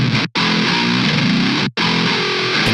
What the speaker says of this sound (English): So pull it all the way down and let it swell up